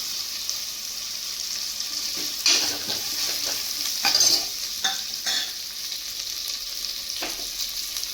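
Curry leaves and crushed cumin and pepper sizzle in a pan for goat leg soup, a constant bright frying hiss with a handful of clear spoon scrapes and stirring knocks up close, no voices.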